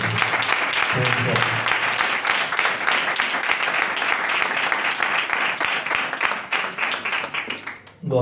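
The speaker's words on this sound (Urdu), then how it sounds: "آئے خدا کے کلام کے لیے تالی بجا کر ہم سب اس کی عزت کریں" A church congregation at a Sunday service claps together in loud, sustained applause, the dense clapping continuing for several seconds before trailing off.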